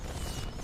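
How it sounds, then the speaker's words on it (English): Fireworks set off in a video game make a loud, dense burst of booming, crackling noise that fills a brief moment. "You just set off fireworks."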